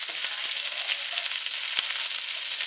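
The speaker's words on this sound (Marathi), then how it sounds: "कढीपत्ता, आलं, मिरची आणि कोथिंबीर आणि छान असं परतून घेऊया." Curry leaves, ginger, green chili and coriander sauté in hot oil over low heat, giving a loud, dense, unbroken sizzle close up with a few soft stirring knocks.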